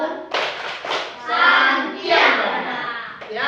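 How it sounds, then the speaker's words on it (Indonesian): A school class claps hands for group 1, a loud, dense burst of applause mixed with children's voices and cheering throughout. "Ya, tepuk tangan untuk kelompok 1."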